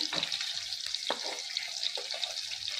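Eggs fry in a pan with chili powder and turmeric over medium heat, a close, steady sizzle with a few soft scraping stirs on top and no talking.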